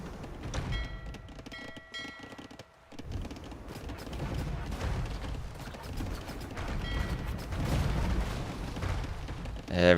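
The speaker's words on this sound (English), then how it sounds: "Everything goes down there and the ship sinks" War galley going down in a naval battle in a strategy video game, heard as dense overlapping booms, crashes and cannon-like fire, loud and continuous for the whole stretch, with a brief lull early on.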